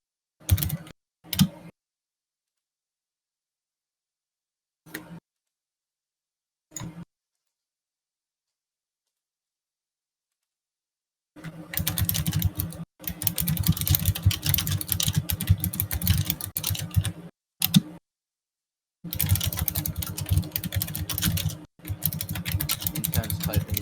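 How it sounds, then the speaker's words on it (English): Intense, rapid typing on a computer keyboard in two sustained bursts after a few scattered short clicks near the start, loud and close with brief pauses between runs, no talking over it. "Intense typing sounds."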